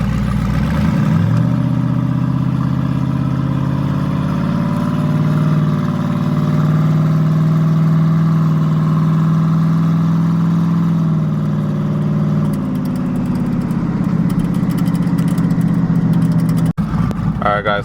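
A race truck engine with an exhaust header leak runs at a steady idle for about eighteen seconds, a close, even rumble with one sharp click near the end.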